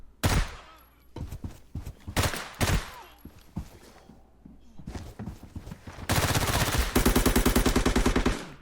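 Gunfire in Arena Breakout, starting with scattered single shots and short bursts, then a loud, rapid, sustained automatic burst toward the end, close and without talk.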